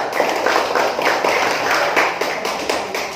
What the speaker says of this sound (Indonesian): Ya, silakan tepuk tangan buat kelompok 3.